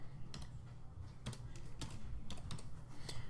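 Rapid keystrokes clatter on a computer keyboard, a quick uneven burst of close, soft clicks typing out a web address and search.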